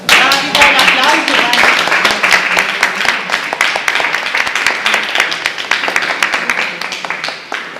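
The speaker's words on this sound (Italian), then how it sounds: "Bravi, buon applauso" Audience applause at the Artisti del Delta art exhibition opening: dense, sustained clapping from a crowd that stays loud throughout, slowly thinning toward the end.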